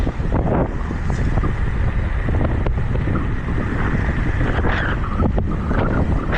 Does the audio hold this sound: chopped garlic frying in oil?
no